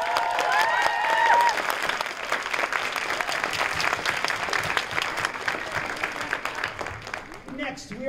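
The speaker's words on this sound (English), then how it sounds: "Give one more round of applause for our awesome soloists." An audience at a summer band concert gives a loud, sustained round of applause for the jazz soloists, with dense steady clapping that tapers slightly toward the end.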